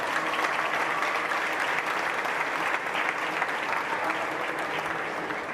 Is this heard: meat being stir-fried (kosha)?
no